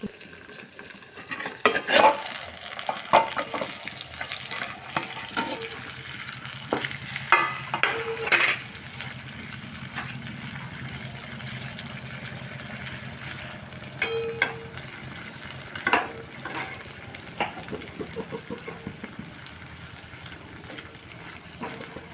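Capsicum cooks in a pan with a splash of water while a spatula stirs and scrapes. Metal clinks and clatters sound over a light, steady sizzle, with irregular louder knocks and no talking.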